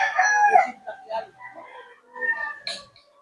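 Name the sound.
chickens and roosters crowing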